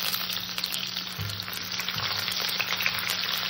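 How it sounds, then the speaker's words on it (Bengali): Chopped onion sizzles steadily in hot oil over a bay leaf and cumin tempering for a mutton curry, a close, even frying hiss with no talk. "এখানে দিয়ে দেবো পেঁয়াজ কুচি"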